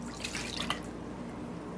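Water being poured into a container while mixing lye solution for homemade chocolate mint soap, a short splashing, dripping pour heard close up with no talking.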